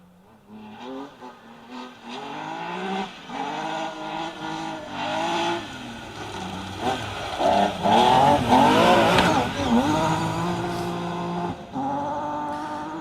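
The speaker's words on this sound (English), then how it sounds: "Next up, the lights are flashing on the front of the BMW. Flat out down the hillside." BMW compact M3 rally car on a stage, driving flat out downhill, engine loud and close, climbing through the gears with sharp shifts and revving swells, the pitch rising and dropping again and again, with no talk.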